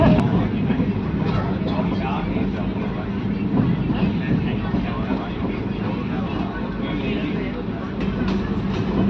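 Shatabdi Express train pulling out of Tiruppur Junction on the Chennai to Coimbatore run, heard from inside the carriage as a steady, dense rumble with rattling that holds constant throughout.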